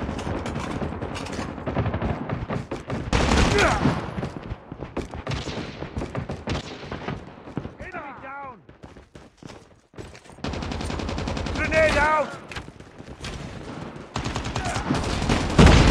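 Gunfire in the mobile shooter Call of Duty Mobile during a battle royale match: loud automatic bursts and rapid single shots that repeat in dense volleys, with brief lulls, whooshing effects and occasional footsteps between them.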